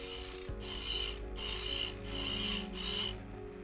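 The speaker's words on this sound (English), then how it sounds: "Then I want to grind a negative rake on top." Hollowing tool steel being ground with a negative rake on a bench grinder, sounding as five rhythmic bursts of harsh rasping over the steady hum of the grinder motor, close and loud with no talking.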